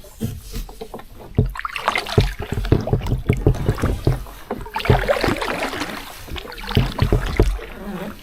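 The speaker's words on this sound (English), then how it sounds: "How long have we been paddling?" Canoe paddles dipping and pulling through lake water at Bonnechere Provincial Park, a steady run of splashy strokes and trickles close by, with no voices.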